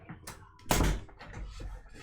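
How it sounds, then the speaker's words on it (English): A bedroom door is pushed shut with a single solid thud near the middle, close and fairly loud over a faint household background. "Close my door"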